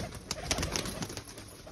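High-flyer pigeons coo in a loft, soft throaty calls repeating a few times at close range over a dense, hissy background.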